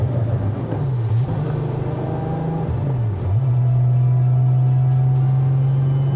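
A car engine idles steadily and revs briefly while being warmed up before a launch-start drag race between a 1200 hp Golf and an 850 hp Lamborghini on an airstrip. Its loud, close drone shifts pitch twice, then settles into a steady hum.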